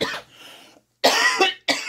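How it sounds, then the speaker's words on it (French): A person coughs up close, a few harsh bursts in quick succession with a brief pause between them. "Excusez-moi de tousser."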